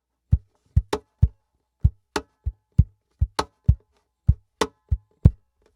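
Percussive taps and knocks on the body of a Cole Clark PG3 acoustic guitar with a satin finish, played through its pickup: a dozen sharp, dry hits in an irregular rhythm, close and distinct with silence between them.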